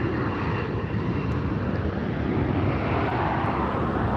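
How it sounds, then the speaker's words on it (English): Hawaiian Airlines Airbus A330-200 arriving at LAX from Honolulu, a steady broad jet roar with wind buffeting, moderately loud and sustained without voices. "Next arrival is going to be Hawaiian Airlines coming in from Honolulu. This is an A330-200."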